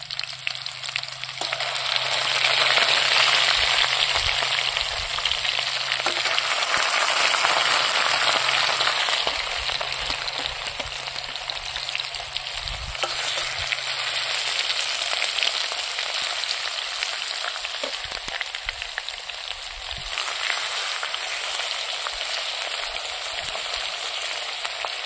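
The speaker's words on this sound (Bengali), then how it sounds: "দেখুন আমি এখন একটু ভাজি নেব তেলের মধ্যে।" Eggs frying in oil in a pan, giving a steady, loud, broad sizzle that carries on without a break for about twenty-five seconds, with no voices.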